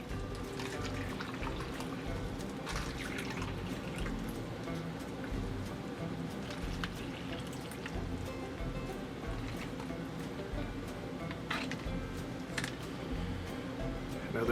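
Tap water pours steadily into a container for a mouse experiment, a continuous broadband rush of running, splashing water that fills the whole stretch with little change in level.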